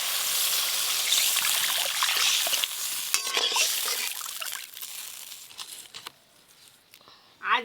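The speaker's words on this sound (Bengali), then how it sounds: "এবার জল দিয়ে দেব।" Water poured into hot oil with fried spices for a fish curry sets off a loud, hissing sizzle that gradually dies down to a quiet simmer, with a brief clatter at the end.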